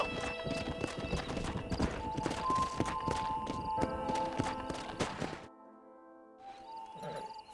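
Horse hooves clip-clop steadily and close in Red Dead Redemption, a brisk rhythmic run of hoof strikes that cuts off abruptly, followed by a quiet stretch with faint clatter.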